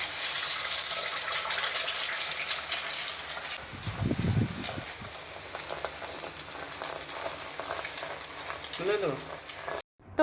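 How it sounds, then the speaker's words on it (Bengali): Eggs frying in oil in a pan for an egg curry give a steady, close hiss that runs through the whole stretch, with a few low thumps of pan handling midway. "তো ডিমগুলো আমার ভাজা হয়ে গেছে"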